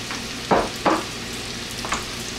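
Mushrooms hit a hot pan with browning meat, giving a soft steady sizzle broken by a few quick scraping stirs, close and fairly quiet.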